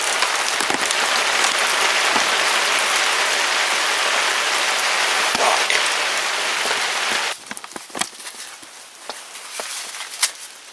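Rain pours steadily on surfaces during fall in the Oregon Coast Range, a dense hiss of drops, then thins abruptly into scattered individual taps and patters near the end, with no talk.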